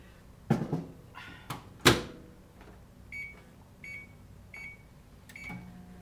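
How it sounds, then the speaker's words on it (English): A microwave door thuds shut with a few clunks, then a series of short electronic beeps sounds as the oven is started to heat melt-and-pour soap, near and moderately loud. "So while that's heating up in the microwave"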